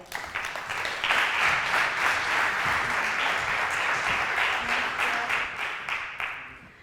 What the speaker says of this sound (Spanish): Fuerte aplauso para Celia.